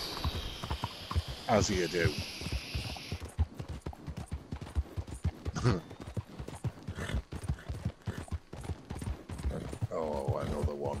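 Horse hooves clip-clop at a steady run in Red Dead Redemption 2, heard close over game ambience, with someone talking throughout.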